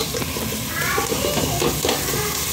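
Masala spices sautéing in oil in a pan for egg bhurji rice, a steady close sizzle with light stirring scrapes running through the whole stretch.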